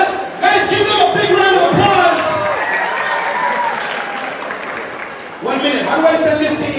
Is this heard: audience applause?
yes